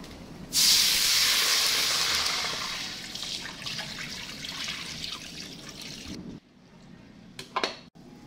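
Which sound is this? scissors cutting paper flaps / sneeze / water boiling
water boiling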